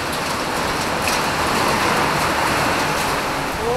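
Small hailstones fall amid a heavy downpour in Siddapura, a dense, unbroken wash of rain noise flecked with faint clicks of ice hitting the ground close by.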